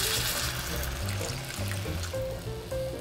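About a cup of water poured into a cooking pan holding onions and bulgur wheat, a steady close trickle and splash running for a few seconds.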